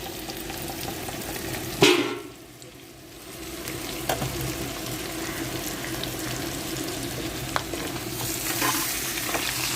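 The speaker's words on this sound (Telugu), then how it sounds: "ఇలా వేగినాయి కదండి ఈ స్టేజ్లో ఉండగానే మనం కారం వేసేసుకోవాలి" Garlic, cumin and dried chilies fry in hot oil as chili powder goes in, a steady close sizzle with a sharp clatter of stirring early on.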